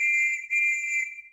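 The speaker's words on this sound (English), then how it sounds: "And Dave, you can blow this whistle to start and stop the train." Two quick toy-style whistle blasts, a shrill steady tone briefly broken in the middle, then fading out; no other sounds.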